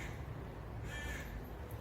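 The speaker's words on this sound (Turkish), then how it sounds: "Biraz ses olabilir böyle kuş sesleri filan doğayla iç içeyiz" A crow caws faintly outdoors by a cafe, one brief call at a distance over quiet background ambience, with no voices.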